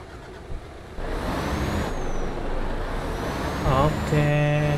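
A bus engine in Euro Truck Simulator 2 pulling away in first gear, a steady low rumble that builds slightly as it moves off, ending with tonal warning or gear sounds.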